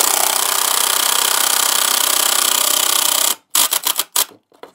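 Close, loud drill driving number 12 Phillips screws into wood for a garden compost sifter frame: a steady grinding whir for several seconds, then a few quick stuttering pulses as the screw is snugged down.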